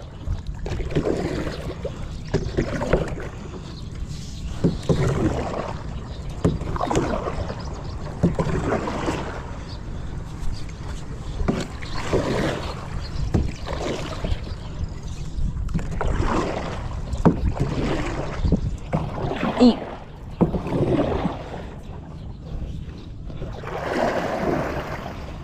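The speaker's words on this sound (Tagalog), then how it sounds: "Para pagdadrive ko yung bangka namin" A small boat moves across water, with paddle-like splashes and sloshing in an irregular rhythm under gusty wind buffeting the microphone.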